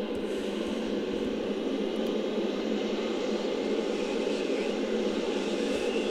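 A steady, loud airplane engine drones without a break in the video game Battlefield Vietnam, a close, even roar with no talking over it.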